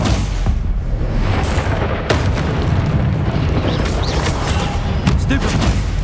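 Spell blasts and explosions in Hogwarts Legacy, a dense, continuous barrage of booming impacts and crackling bursts, loud and close with no pause.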